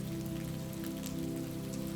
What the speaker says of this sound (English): the echo of raindrops in an ancient courtyard